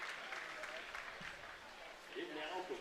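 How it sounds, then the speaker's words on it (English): A crowd at a men's water polo game between the USA and Croatia applauds and cheers as a player heads to the bench, the clapping steady and moderately distant beneath a commentator's voice. "And to a cheer as he heads to the bench"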